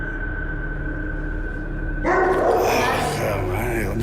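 A dog barks repeatedly at moderate distance, the yaps and woofs arriving abruptly after a quiet, humming stretch and continuing with voices talking nearby.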